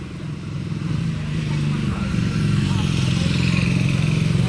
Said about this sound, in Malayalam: ഇവൻ ഇവിടെ വീലി അടിക്കാൻ പോകും വീലി ചെറിയ വീലിയാണ്